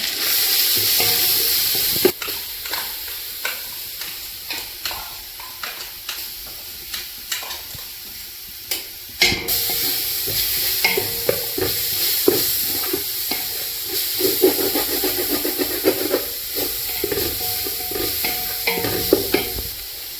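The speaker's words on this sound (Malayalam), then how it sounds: "തേങ്ങ കൂടി നല്ലപോലെ മൂത്ത് വന്നിട്ടുണ്ട്" Grated coconut, fennel seeds and shallots roasting in a pan for Kerala coconut rice, a steady close sizzle broken by repeated sharp scrapes and taps of a spoon stirring, no voices.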